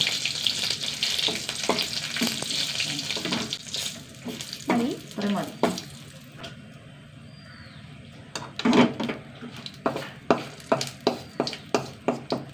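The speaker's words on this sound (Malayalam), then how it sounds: "നമുക്ക് മുളകൊന്ന് വറുത്തെടുക്കണം കേട്ടോ" Crackling sizzle of chilies frying in coconut oil with bursts of popping and spattering, close and uneven, growing into repeated sharp pops toward the end.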